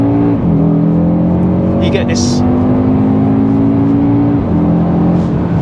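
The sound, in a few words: Audi RSQ3 Sportback 2.5 litre engine accelerating in RS mode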